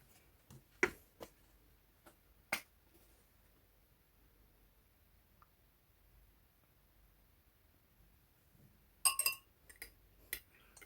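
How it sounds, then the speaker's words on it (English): A spoon clinks against a glass while honey is stirred into a drink, with a few sharp taps early on, a long quiet gap, then a quick cluster of ringing clinks near the end, close and fairly faint. "Stir it in well."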